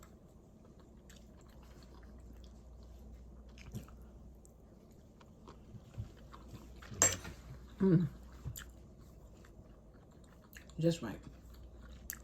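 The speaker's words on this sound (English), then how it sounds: "The broccoli still has a little crunch to it, and that's what I like" Someone eats shrimp and crunchy broccoli close to the mic, with a few soft bites and chews scattered among quiet pauses while a person speaks briefly.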